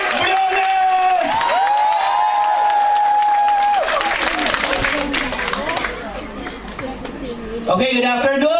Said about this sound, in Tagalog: Milyon-milyon palakpak para sa ating mga kapatid sa Hong Kong